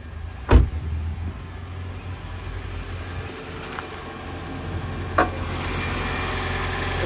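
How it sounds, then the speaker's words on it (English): A 2022 Toyota Corolla Hybrid hatchback idles steadily with the bonnet open, its air conditioning compressor ticking over beneath a low engine hum, punctuated by a few sharp clicks. "At the moment, just that compressor ticking over from the air conditioning."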